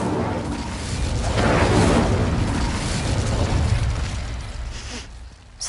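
An Incendio fire spell cast in a Harry Potter video game erupts in a loud, sustained whooshing roar of flame that swells and then fades over several seconds, with no talking.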